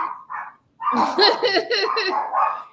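Several dogs bark and yip close to the microphone, a burst of short, excited barks and yelps that starts with a couple of quick yaps.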